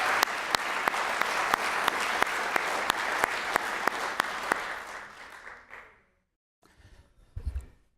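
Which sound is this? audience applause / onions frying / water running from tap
audience applause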